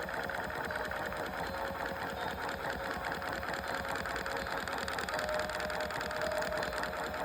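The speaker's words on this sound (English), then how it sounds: "The gears are turning." Gears turning inside a restored Ocean Wonders toy aquarium (2002–2010 version) make a steady, continuous mechanical whirring hum with a fine rapid clatter, running evenly and unbroken throughout.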